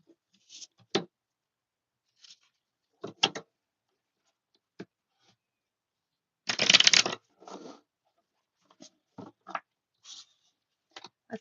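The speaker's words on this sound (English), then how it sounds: "Let me just reshuffle this." A deck of tarot cards is reshuffled in short, soft riffles and taps, with one longer, louder shuffle burst in the middle, close and quiet with no talk.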